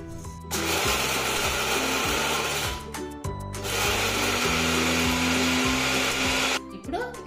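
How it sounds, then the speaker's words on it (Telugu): An electric mixer grinder crushing cooled roasted lentils with oil, loud whirring bursts with a rising-falling motor pitch and brief pauses between runs, close and without speech. "అందుకోసం బాగా చల్లారనిచ్చి మనం మిక్సీ పట్టుకుందాం"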